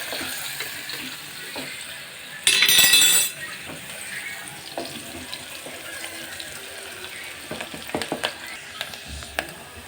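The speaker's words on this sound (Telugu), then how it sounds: "ఇప్పుడైతే ఆనియన్స్ అయితే వేసుకోవాలి అత్త. కరివేపాకు, బాగా మగ్గించుకోవాలి." Onions and curry leaves frying in a pan give a steady close sizzle with occasional clinks of a stirring utensil, plus a brief loud rush of running water partway through.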